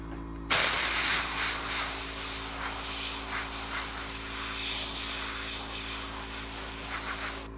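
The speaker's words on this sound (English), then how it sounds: "here is the tack spray. I'm just going to give it a light coat" A continuous aerosol tack spray hisses close by for several seconds onto skin for henna stencil application, steady with slight fluctuations, then stops.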